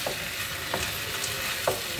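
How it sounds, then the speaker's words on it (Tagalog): Garlic sizzles steadily in olive oil in a pan while a utensil stirs it, with a few light scraping strokes over the continuous close frying hiss. "Nahalo-haloin lang po yung olive oil at saka yung atsuga."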